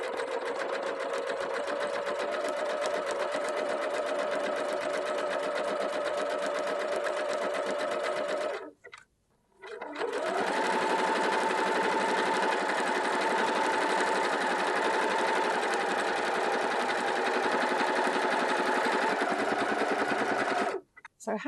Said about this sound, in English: The idea is that you're going to zigzag over the elastic, not catching it at all